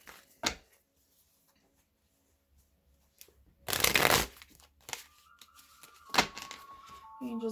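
Gilded Tarot cards handled and shuffled up close in a few separate bursts: a short snap, a longer rough riffle in the middle, then another sharp flick, with quiet gaps between.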